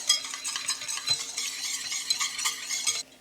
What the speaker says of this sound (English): We're just going to stir it so that the cornstarch gets a chance to smoothen out.